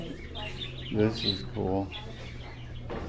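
Bird calls rise at a bird farm holding birds of many sizes, including a scarlet macaw and finches, a few short chirping bursts near and moderately loud while someone talks over them.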